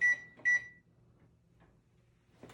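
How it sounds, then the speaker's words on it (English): A kitchen timer goes off during cooking of pork tenderloin and vegetables, two loud electronic beeps in quick succession at the start, then near silence with faint low room hum. "Our timer went off."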